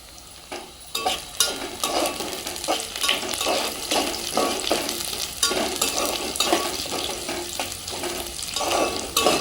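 Green chillies frying in a pan for a country chicken curry while being stirred, giving a steady crackling sizzle broken by repeated scraping stir strokes, close and moderately loud, with no talk over it.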